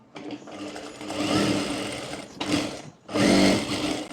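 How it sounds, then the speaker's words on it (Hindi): A sewing machine stitches cargo trouser fabric for a child's pants, running in close, loud whirring bursts with a steady mechanical rhythm, pausing briefly twice before starting again. "तो यहाँ पर पूरे में एक सिलाई लगा लेनी है आसन वाले पार्ट में।"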